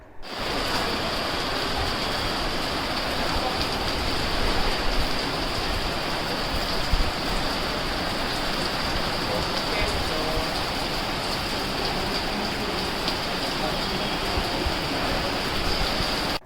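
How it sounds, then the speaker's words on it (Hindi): Steady rain drizzles over rural countryside, a continuous soft hiss and patter at an even level throughout, with no speech. "अगल बगल के ग्रामीण इलाकों में बारिश की बूंदाबांदी दर्ज की गई"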